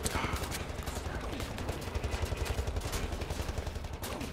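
Rapid enemy gunfire in a fight in Wolfenstein: The New Order, with dense automatic bursts that keep up without a break against a loud, busy background.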